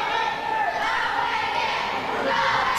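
Wrestling arena crowd at a Global Championship Wrestling TV show chanting the wrestler O'Hagan's name: a sustained, rhythmic mass of voices that swells and dips, loud and continuous throughout.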